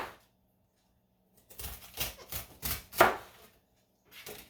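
A knife cuts the core out of a cabbage: a short cluster of crisp, close chopping and crunching taps, ending in one louder snap, then a pause and a last faint cut.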